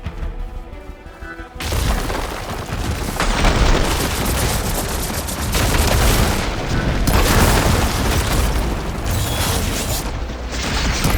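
Heavy ballista shots in the video game Horizon Forbidden West, loud booming impacts and mechanical thuds over a dense, continuous battle din, with several strong bursts across the stretch.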